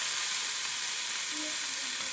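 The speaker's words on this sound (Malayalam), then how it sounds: "ചെമ്മീൻ കുറേശ്ശെ ഇട്ട് കൊടുത്ത് ഇളക്കി കൊടുക്കാം." Prawns fry in coconut oil in a pan, Kerala style, while being stirred, making a steady, close sizzle and hiss with faint scraping of the stirring.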